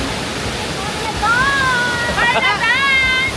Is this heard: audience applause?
no